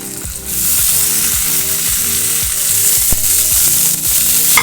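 Dill leaves fry loudly in a pan with a constant dense sizzle and hiss, while rhythmic background music runs underneath.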